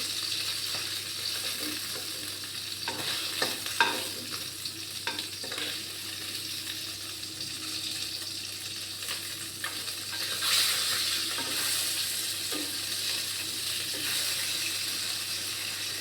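Fish fries in oil in a pan, a steady soft sizzle running the whole time, with occasional clinks and stirring scrapes from a spatula close by, and no talking.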